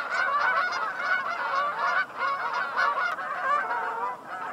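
A flock of geese honks continuously as they fly away in the rain, many overlapping calls fairly close and loud with no talk over them.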